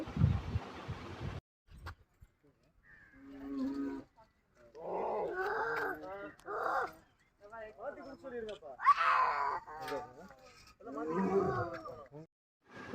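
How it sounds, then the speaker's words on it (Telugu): A white tiger at Chennai zoo lets out deep roars, heard at a distance among several people talking and children's voices nearby. "ఎలా అరుస్తుందో చూడండి వైట్ టైగర్"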